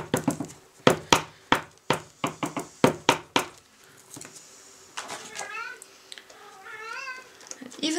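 A house cat meows several times in rising, wavering cries near the end, after a run of sharp knocks at the start, with someone talking faintly in between.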